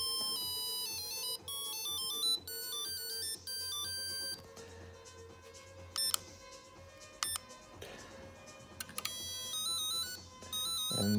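Electronic beeping melody from a GReddy GTT3 turbo timer, a quick run of tinny synthesized tones rising and falling, faint and close with a low engine hum underneath.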